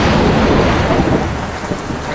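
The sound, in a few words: rain and thunder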